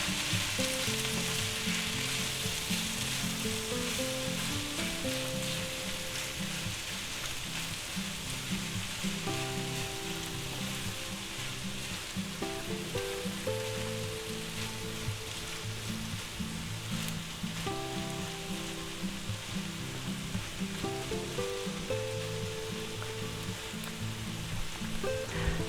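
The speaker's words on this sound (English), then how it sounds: "And we'll go ahead and add our eggs back in there, yep. We'll give them a little stir." Eggs sizzle steadily in a hot frying pan with occasional stirring scrapes. The frying hiss is continuous and close, with no talking.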